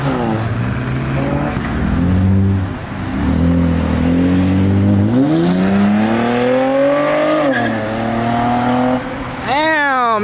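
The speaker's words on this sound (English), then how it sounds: "Damn, that fucking Honda is hauling ass." A Honda accelerates hard past a car meet at a Raleigh park, its engine loudly climbing through several gear shifts, revving up and dropping again, with crowd chatter and shouting underneath.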